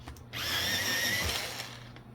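Prismacolor Premier colored pencil turned in a sharpener, a close whirring grind lasting about a second and a half, fairly quiet, alone.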